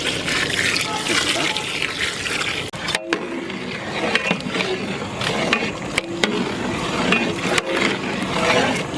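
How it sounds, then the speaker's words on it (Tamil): Hot water pours and splashes into a cooking pot for beef biryani in a continuous rush, with some clinks and bumps along the way. "நம்ம சுடு பண்ணி தண்ணி சேர்த்துக்கிறோம்"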